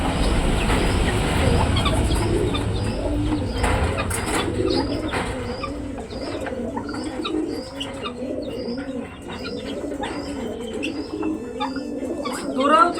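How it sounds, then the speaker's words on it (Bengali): Chickens cluck in a busy poultry yard among other fowl, with repeated short calls close by that overlap a steady background murmur throughout. "এগুলো আমাদের দশ টাকার মুরগিকে দেব"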